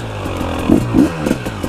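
A KTM 300 two-stroke dirt bike crosses swampy mud among logs. Its engine holds a low, steady, close drone, with scraping and clattering thuds over it.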